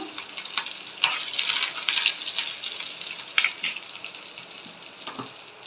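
Onions and curry leaves sizzle steadily in hot oil for a yogurt tempering, a close crackling hiss with a few sharper pops and occasional stirring clinks, no talk.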